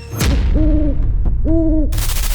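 Owl hooting in two loud, drawn-out tonal calls, each about half a second long and separated by a short gap, with a rough low rumble and a hiss of noise running underneath.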